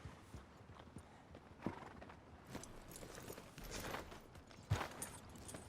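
Horses in the Red Dead Redemption 2 video game clip-clop at a walk with scattered hoof thuds and snorts, fairly quiet and distant, with a brief neigh near the end.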